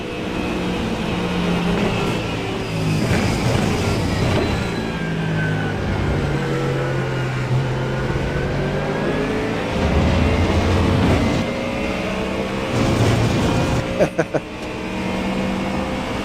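Corvette and Mustang race cars in an iRacing American Muscle GT3 race drone steadily, with engine pitch rising and falling through gear changes. A few sharp clicks land near the end.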